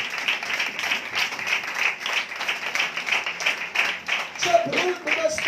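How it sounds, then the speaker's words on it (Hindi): A church congregation at a Pentecost service claps loudly in a sustained, rhythmic burst, with a voice rising briefly over the applause near the end. "जोरदार तालियां बजाएं"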